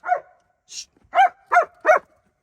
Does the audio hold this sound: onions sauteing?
no